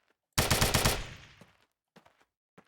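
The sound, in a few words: video game sound effect of shooting a tree in DeathMatch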